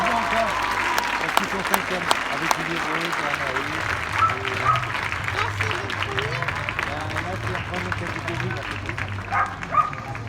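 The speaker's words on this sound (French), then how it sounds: "je pense qu'on peut encore les applaudir bien fort" A crowd claps steadily throughout a prize-giving ceremony at a French elite sports event, while a voice talks over a loudspeaker above the sustained applause.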